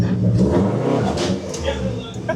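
A car engine revs unevenly under a driver unfamiliar with the clutch, a loud, close mid-pitched drone rising and falling while a voice speaks over it.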